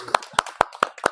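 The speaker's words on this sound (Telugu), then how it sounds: "మరింతటి ధ్యానానికి ఒకసారి క్లాప్స్ కొడదామా?" A small group claps five times in slow, evenly spaced unison after a guided meditation session, each clap sharp and close, with no voices.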